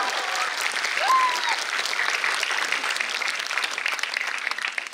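Sustained applause from a school audience at a St James School Chawlhhmun anniversary celebration, honouring Class 10 students, a steady dense crackle of many hands lasting throughout without a break.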